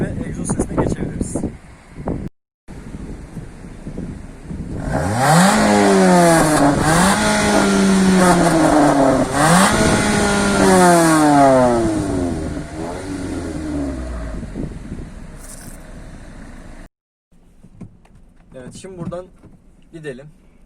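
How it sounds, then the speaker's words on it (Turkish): A Mitsubishi Lancer's exhaust revs up loudly and close by, climbing through several sweeping rises toward high revs and dropping back between them over about ten seconds, with talking before and after the revving. "Ondan önce egzozumuzu dinleyelim. 7000 deviri falan çeviriyor."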